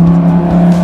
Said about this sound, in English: There's a stupid car that went past it